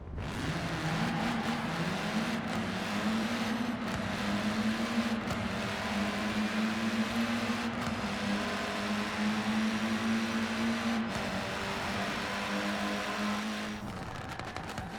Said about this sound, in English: Now to go from the back to hear the exhaust.